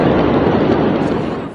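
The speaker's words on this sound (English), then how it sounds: "There were reports that a warehouse containing fireworks had caught fire." Fireworks stored in a burning warehouse at Beirut port go off as a loud, dense, continuous crackling roar that fades slightly toward the end.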